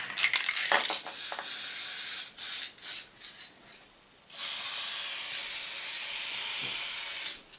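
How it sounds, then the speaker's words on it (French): Silicone spray on a Husqvarna R53S Pro lawnmower, a close hiss in several short bursts followed by one long steady spray. "Avec un petit coup de spray silicone."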